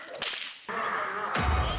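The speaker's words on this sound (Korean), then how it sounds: "채찍은 훈련견을 흥분시키는 도구인데요" A whip cracks sharply in a police training dog yard, loud and close, with a second crack after a short pause and a dense rushing wash of sound between the strikes.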